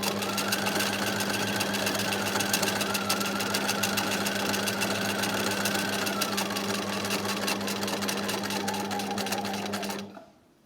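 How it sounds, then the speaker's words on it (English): A Bernina 1008 sewing machine stitches forward along a buttonhole, running at a steady rapid hum and chatter for about ten seconds before stopping abruptly into near silence. "I'm going to stitch forward until I get to the second marker"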